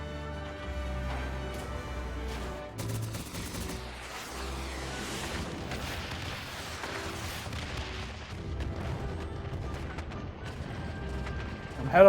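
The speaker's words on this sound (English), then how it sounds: "I'm ahead of an explosion." Explosive blasts and rumbling booms from a Final Fantasy XIV battle, layered over continuous game music and effects, with a few sharper bursts scattered through and a loud hit at the end.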